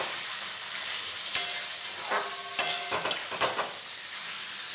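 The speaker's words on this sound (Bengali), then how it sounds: "দিয়ে একটু খুব ভালোভাবে ওই পেঁয়াজ আর টমেটোর সাথে মাংসটা ভেজে নেব" Marinated duck meat frying with onion and tomato for a village-style duck curry, a steady close sizzle broken by several sharp spatula clanks and scraping stirs against the pan.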